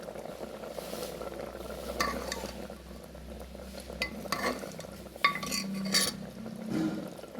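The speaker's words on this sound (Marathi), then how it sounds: "आमटी अशी खळखळून घ्यायची उकळून." A pot of drumstick amti, a Maharashtrian curry, boils vigorously at a steady bubbling hiss, with occasional clinks and stirring scrapes of a utensil against the pot.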